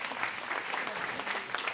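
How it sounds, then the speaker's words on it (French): Dense audience applause at a fashion show, many hands clapping loudly and evenly for the full short stretch. "merci pour vos applaudissements"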